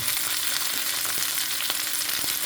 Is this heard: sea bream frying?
yes